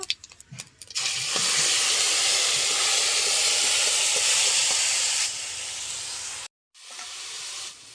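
Dry chili and panch phoron spices hit hot oil and burst into a loud, steady sizzling hiss that holds for several seconds, then drops off sharply, cuts out briefly and resumes more quietly.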